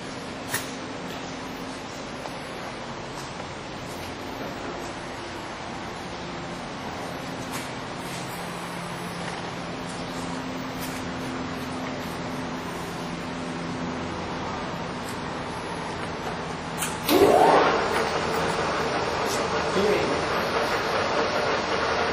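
A Moriseiki 24 x 80 inch engine lathe runs its spindle at 280 RPM, a steady, moderately loud mechanical hum that turns brighter and louder after a brief clatter near the end.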